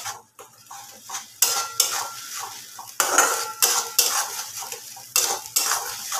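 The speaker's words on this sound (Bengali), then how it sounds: "এটাকে মশলাটাকে একটু কষাতে থাকবো।" Spice paste is stir-fried in a pan for a milk chicken dish, a close series of loud metallic spatula scrapes and clanks against the pan in an uneven rhythm over a light sizzle.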